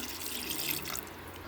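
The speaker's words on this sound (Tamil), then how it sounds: "இப்போ வந்து தேவையான அளவு தண்ணி ஊற்றிக்கலாம்." Water splashes steadily into a cooking pot for a curry dish, a short, continuous gushing pour heard close and alone.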